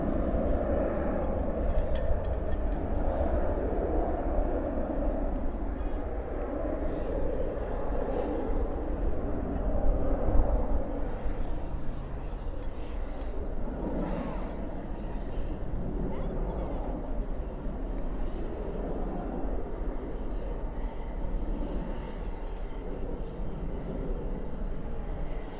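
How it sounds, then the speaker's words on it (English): An Embraer E175 jet departs Dallas-Fort Worth airport at night, its engines a steady, broad roar that holds for the whole stretch at moderate distance, with people talking over it. "This E175 headed off to Lubbock, flight 3399"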